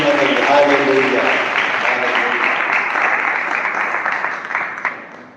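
A church congregation claps together in praise during a Hindi sermon, a dense, steady wash of applause that stays loud throughout and tapers off near the end, with some voices mixed in.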